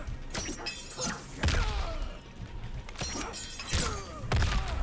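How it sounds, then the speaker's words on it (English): Rambo's claymore is blown up during a Mortal Kombat 11 fight against Mileena, amid game combat: a series of loud, crunching, shattering impacts with deep thuds, recurring every second or so over busy fight noise. "You can actually blow it up, you know."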